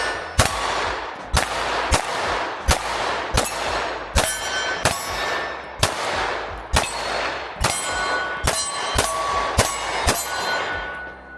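Handgun shots fired in a steady series, about fifteen sharp, loud reports spaced roughly a second apart, each ringing briefly into a fading tail, from a ported pistol at an outdoor range.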